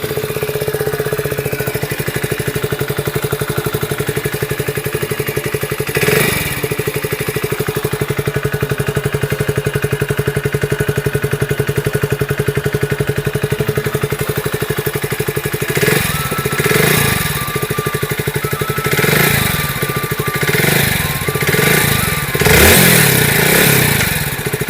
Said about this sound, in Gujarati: ચાવી ઓન કરીએ અને બાઇકને સ્ટાર્ટ કરીએ.